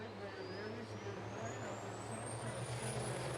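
Big rig race trucks roaring around South Sound Speedway in the final laps, a loud, steady engine drone with a rising whine sweeping upward, continuous and close.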